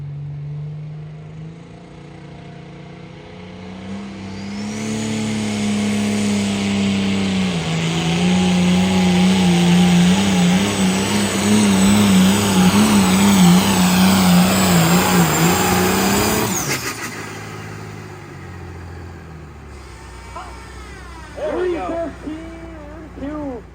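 A pulling tractor at a truck and tractor pull roars up to a loud, sustained engine howl that holds for about ten seconds and then cuts off abruptly. Crowd noise and an announcer's voice follow at the end.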